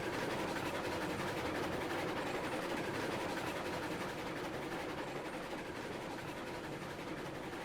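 A Heisler steam locomotive hauling train cars in the Railroads Online video game, a steady rumbling roll with faint clickety-clack running throughout, fairly quiet and without voices.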